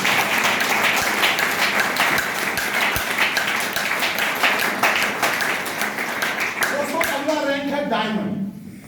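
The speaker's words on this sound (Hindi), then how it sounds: "तो मैं चाहूंगा एक बार जोरदार ताली" Loud, dense applause from a large crowd, sustained for several seconds before fading out, with a voice emerging near the end.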